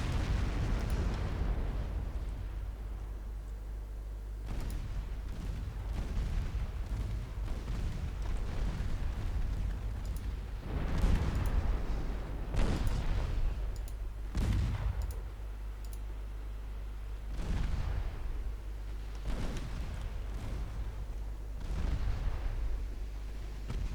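Secondary guns firing in a naval warfare video game, a series of separate booming shots spaced a few seconds apart over a steady low engine rumble, with no talking.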